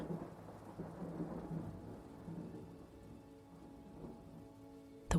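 A winter thunderstorm rumbles low and steady under falling rain, the thunder rolling on for several seconds before fading, then a sharp crack bursts out at the very end.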